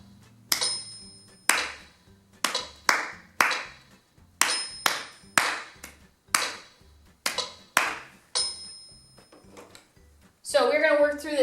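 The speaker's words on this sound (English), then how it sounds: "Let me clap it one more time." Hands clap out a steady rhythm in 4/4 time, about a dozen sharp, close claps evenly spaced, followed by a brief burst of other noise at the end.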